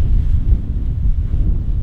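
Strong gusts of wind buffet a military tent on a cold, wet morning, rumbling in loud, close, uneven bursts against the microphone.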